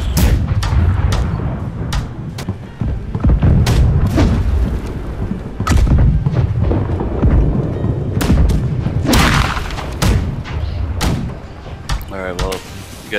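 Cannon volley slamming into a wooden ship in the naval combat game Blackwake, a string of heavy booms and thuds going off at irregular intervals, loud and close, with players talking over the impacts.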